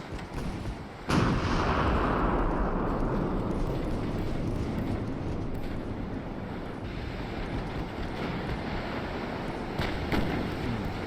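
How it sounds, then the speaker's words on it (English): Warship main guns firing in the Sink the Bismarck naval video game: one sharp heavy blast, then a long rolling roar of wind and sea that fades slowly, with a fainter thump near the end. "Keep the main guns focused on the Cornwallis"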